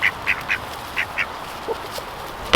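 Ducks give a quick run of loud, close quacks, five or six short calls in a rhythmic burst, then a couple of softer ones and a sharp knock at the end.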